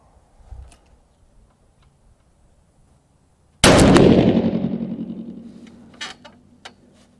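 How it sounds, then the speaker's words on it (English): A single loud 6.5 PRC rifle shot loaded with Vihtavuori N565 powder cracks sharply, then a long reverberant tail rumbles away over several seconds, followed by faint clicks and rustles. "We will continue to shoot 1/2 mil left for the remaining 2 shots."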